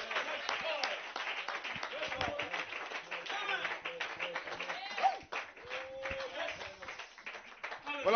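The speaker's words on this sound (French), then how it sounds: "Donnez-nous une acclamation, Seigneur." A church congregation at a sermon claps and cheers, with scattered hand claps and loud voices that keep going under continuous speech and shouts.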